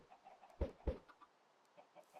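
Chickens cluck twice in quick succession in Minecraft, two short close bursts against faint background game ambience.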